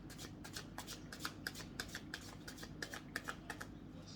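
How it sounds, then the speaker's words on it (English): Tarot cards are shuffled in a quiet room, a quick series of soft riffling flicks repeating steadily with no talking. "So I'm just going to shuffle, give you some clean energy."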